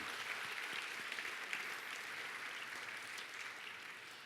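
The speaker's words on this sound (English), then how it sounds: "How about another round of applause for the Nemenzo Tahitian Dance and Music Company?" A crowd at an awards event applauds a Tahitian dance and music company steadily, a dense wash of many hands clapping at moderate distance with no voices over it.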